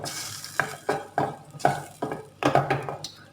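A spoon stirring a tuna pizza topping mixture in a bowl or pan, with about ten distinct scraping strokes at an irregular rhythm, close and fairly loud, with no talk.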